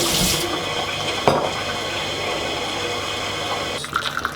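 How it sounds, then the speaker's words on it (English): Hot water for dipping a doll's hair runs and splashes steadily in a washy, faucet-like rush, with a brief clunk partway through and some clattering toward the end. "So we're going to dip the hair in the boiling hot water."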